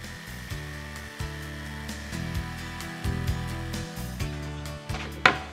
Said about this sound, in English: Just clamp it in place and make the cuts.